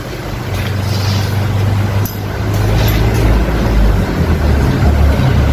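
A second-hand Honda X-Blade motorcycle engine idles steadily up close, a loud, even low hum and throb running continuously with no voices over it.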